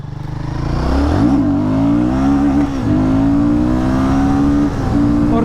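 Royal Enfield Guerrilla 450 motorcycle engine revving hard as the rider lifts it into a wheelie, a loud, close roar that climbs in pitch and then holds high and steady, with brief dips between throttle pushes.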